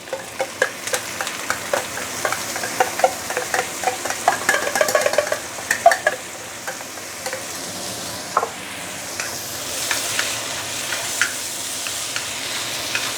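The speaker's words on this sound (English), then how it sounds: "Next thing to put in is the rice, which is already washed and soaked" Washed, soaked rice is stirred in a hot pan with cabbage and pork lard, giving a steady sizzle broken by repeated scraping and tapping of the spatula.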